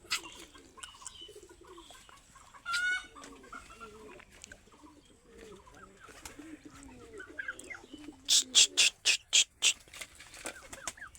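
Chickens cluck in a backyard poultry yard among other fowl, with scattered soft calls and then a rapid series of loud, close clucks near the end; a faint voice is present.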